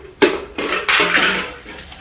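Plastic and metal clatter as a blender top is handled among objects in an abandoned storage unit safe, a few sharp close knocks and rattling scrapes, with no talk.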